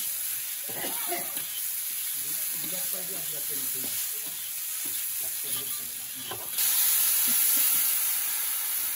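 Spices frying for a boal fish curry, salt, turmeric, cumin powder and Kashmiri chilli powder among them, stirred with repeated scraping over a steady sizzle that turns louder and hissier toward the end, heard up close.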